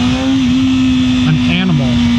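A 2024 BMW M1000R M Competition Package motorcycle pulls away from a stop in first gear using the quickshifter, its engine a loud, steady drone with a brief shift in pitch midway, while a voice talks over it.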